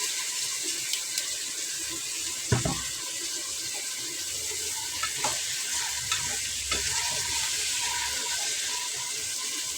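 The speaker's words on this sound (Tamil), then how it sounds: "காய் கொஞ்சம் நேரம் வதங்கிட்டோம்" Vegetables for sambar sauté in a pan with a constant sizzle, while a utensil stirs and scrapes now and then and a few sharper clinks break through.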